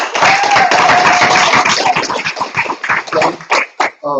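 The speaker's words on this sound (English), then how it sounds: "Let's clap them up." A loud, dense burst of clapping and crowd noise for a school team at a middle school awards event, with voices and shouts mixed in before it breaks up into scattered claps near the end.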